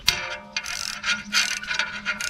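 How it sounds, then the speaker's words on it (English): Hose clamps on the engine of an abandoned 1972 Plymouth Fury are loosened with a ratcheting tool, making quick bursts of close metallic clicking with short pauses between them. No voices are heard. "Get all these hose clamps all loosened up."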